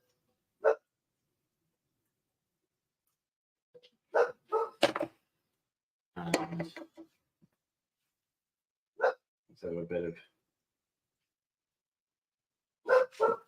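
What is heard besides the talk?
dog barking through a window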